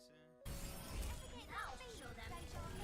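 Shatter ability striking players in an Overwatch-style hero shooter match on the Anubis map, a sudden loud crashing burst after a quiet lead-in, with game noise and some speech-like sound continuing over it.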